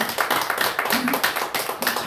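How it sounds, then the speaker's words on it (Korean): Clapping from a church prayer-meeting congregation giving thanks, a scattered patter of hand claps of moderate loudness with voices mixed in. "우리 감사하는 박수 한번 할게요"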